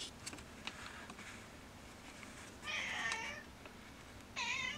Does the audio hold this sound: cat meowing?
yes